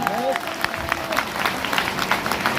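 Seminar audience at a leadership business training event applauding, a dense patter of claps with crowd noise and brief voices mixed in, filling the room for a few seconds.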